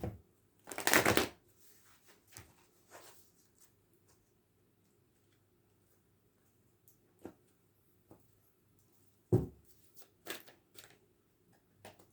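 Tarot cards being shuffled during a Leo weekly reading, with a dense burst of riffling near the start and scattered softer card taps and flicks after it, all close and fairly quiet against a low background hum.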